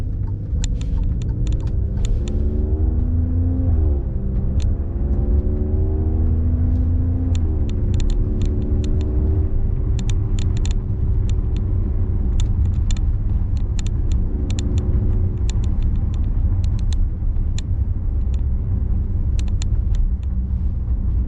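An Alfa Romeo Stelvio Quadrifoglio SUV engine drones loudly and steadily, its pitch rising and then dropping at each gear shift, with faint ticking clicks scattered over the constant rumble.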